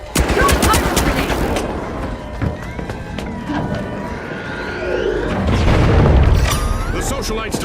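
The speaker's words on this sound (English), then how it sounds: "Throwing pyro grenade" Pyro grenade and gunfire in The Finals, loud bursts of shooting and crashing impacts mixed with a roaring, fiery whoosh that swells near the end, dense and busy throughout.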